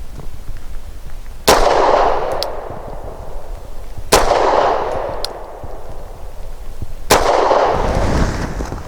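A Walther P5 pistol firing Perfecta 124 grain rounds: three sharp, loud shots spaced a few seconds apart, each followed by a ringing outdoor decay.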